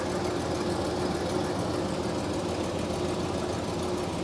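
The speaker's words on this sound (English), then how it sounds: "The compressor is still turning though, so I think that's a good sign." The air conditioning compressor of a GMC motorhome runs as a steady, even engine-like hum with a faint low drone, constant throughout with no talk.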